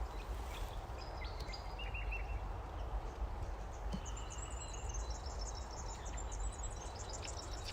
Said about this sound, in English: And you hear all those small birds.